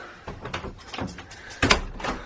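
A dog door flaps and knocks repeatedly in its frame. Several irregular clacks and thuds, the last the loudest, sound close and alone.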